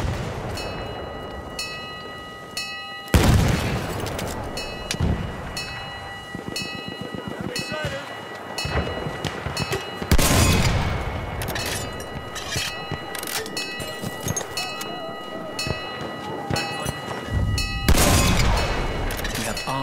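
Grenade explosions in Battlefield 1, several heavy booms with debris crashes at intervals, around three seconds, ten seconds and eighteen seconds, over constant battlefield noise and gunfire.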